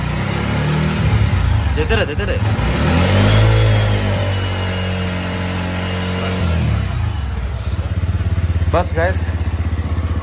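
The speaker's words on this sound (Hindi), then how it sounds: "पीछे के टायर को घुमाते और दिखाते हैं आपको कि चलते समय बाइक कैसा रहेगा।" A motorcycle engine revs and settles while the raised rear tyre spins in place, loud and close, with someone talking over parts of it.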